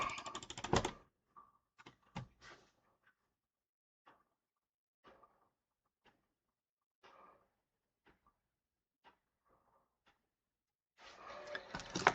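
A computer mouse is clicked repeatedly at irregular intervals, giving sharp, isolated, close clicks in near silence. Louder handling noise comes at the start and the end.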